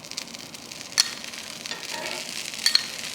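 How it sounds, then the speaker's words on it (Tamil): Appam batter cooks in a pan with a little coconut oil dribbled on top, giving a soft, continuous sizzle with a few light scraping taps. "ஒரு கரண்டி நிறைய மாவு எடுத்து ஊற்றி அப்படியே இந்த மாதிரி சுற்றி விடணும். மேலே அப்படியே கொஞ்சமாக எண்ணெய்"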